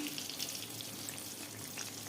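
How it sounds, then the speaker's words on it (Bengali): Pointed gourd (potol) frying in hot oil with salt and turmeric, a faint steady sizzle and crackle heard up close, continuous and quiet, with no talking. "পটলগুলো ভাজছি।"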